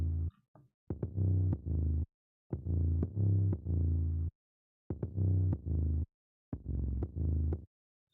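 Bass line of a composed fansong, played in short melodic phrases separated by silent gaps, with a deep, warm, sustained tone, fairly quiet and alone.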